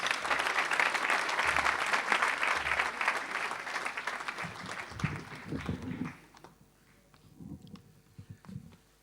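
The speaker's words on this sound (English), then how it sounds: "Could you give him a round of applause, please?" A round of applause for the Mayor of Bolton at a temple reopening ceremony, full and steady at first, then fading after about six seconds to scattered claps and low room murmur.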